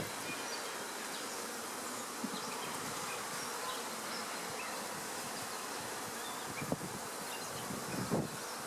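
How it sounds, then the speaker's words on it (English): Honey bees in an opened beehive during an inspection, a dense, continuous buzzing that holds steady for several seconds, with faint handling noises near the end. "Lots of bees."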